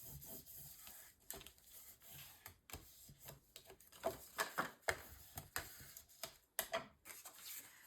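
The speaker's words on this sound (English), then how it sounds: "and then burnish this down." Burnishing a paper piece down onto a mini album page base, giving soft dry rubbing and scraping strokes in irregular bursts, close and fairly quiet, with no talking.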